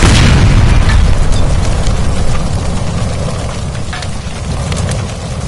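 A gas line blows in a burning room in the video game L.A. Noire, giving a loud, sustained booming roar with a heavy low rumble that slowly eases over several seconds, with no voices.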